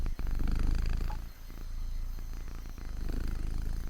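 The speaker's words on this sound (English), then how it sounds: "The purring sound you hear is Luna." A domestic cat purring close to the microphone, a steady low rumbling rhythm with a brief dip in the middle, heard alone without talk.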